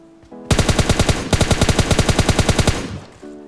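Rapid automatic gunfire in PUBG Lite finishing off a knocked-down bot, a loud sustained burst of evenly spaced shots lasting over two seconds, with a few quieter game sounds before and after.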